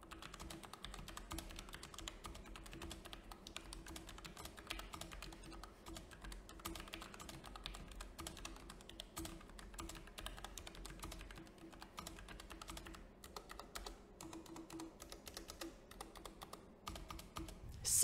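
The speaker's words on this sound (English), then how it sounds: "because this was designed to be used in office environments, it's extremely quiet to type on" Typing on a Logitech MX Mechanical keyboard, a quiet office-oriented mechanical board: a continuous run of soft, muted key clicks at a steady, brisk pace, faint and close, with no voices.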